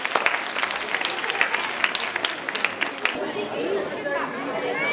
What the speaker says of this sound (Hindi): तो एक बार जोरदार तालियों से स्वागत कीजिए हमारे इन चिली किड्स का।